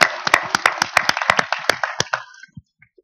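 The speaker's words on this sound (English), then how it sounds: "So a big round of applause for our two organizers for this event." A small audience at a wearable tech panel event claps for the organizers, a short burst of close, distinct claps that thins out and stops within about two and a half seconds.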